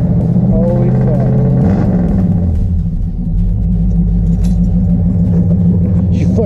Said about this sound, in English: She turned over and fired right up.